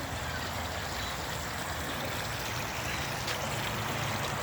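Garden pond water running and trickling, a steady, soft, continuous wash close by, with no talk over it.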